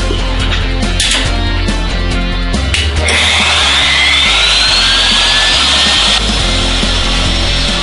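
A power carving bit grinds across the coarse grain of hard oak while a large rosette relief is carved, a loud, close, continuous abrasive whirring and rasping with a rising whine partway through and no talking.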